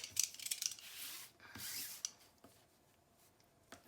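Scissors trim a sheet of paper down for a papercraft project, producing a few quiet, close snipping and slicing strokes with short pauses between them and no speech.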